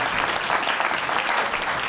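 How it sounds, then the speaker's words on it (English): Dense applause fills the room as an audience claps for panelists at the close of a session, a continuous, even roar of hands throughout. "let's just give them a round of applause"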